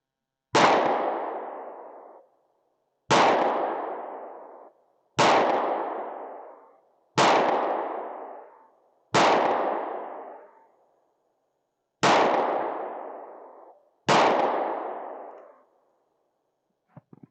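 Seven sharp AR rifle shots fired at an outdoor range, each a loud crack with a ringing decay, spaced roughly two seconds apart, followed by faint clicks and no talk.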